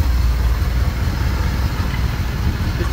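A 1955 Chevy 3100 pickup's 350 V8 with a two-barrel carburetor idles close by, a steady low rumbling burble that holds even throughout with no voices over it.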